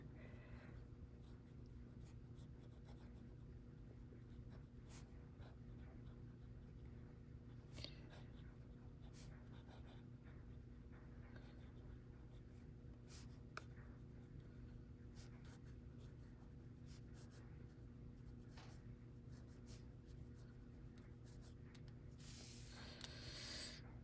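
A fountain pen filled with LAMY Sepia ink writes on paper, making faint, scratchy strokes at an irregular pace. The strokes sit over a steady low hum, and there is a brief rustle near the end.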